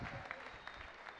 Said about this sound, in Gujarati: જોરદાર તાળીઓ Lions club of king circle માટે.